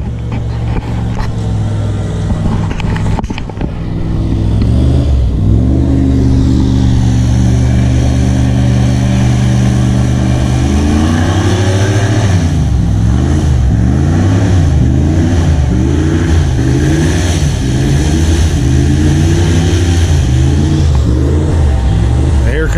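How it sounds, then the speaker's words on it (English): A four-cylinder airboat engine on the St. Johns River approaches, starting as a rough idle and swelling into a loud, steady roar with rising and falling revs, close and dominant throughout. "There's the other boat coming up. I hear a warp drive coming that way."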